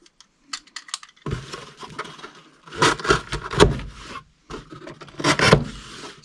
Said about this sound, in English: We're going to cut this down.